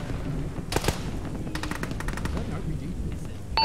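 Automatic gunfire in the Arma military game during a ShackTac squad battle: a short rattling burst, then a longer rapid string of shots, fairly close and loud over a low rumble of battle ambience.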